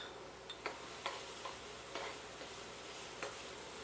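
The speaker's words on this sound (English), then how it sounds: "So we're going to heat this up as the professional chefs say. We're going to sweat it." Minced onion and garlic sweat in a hot pan with a faint, steady sizzle, broken by a few soft clicks and taps from stirring.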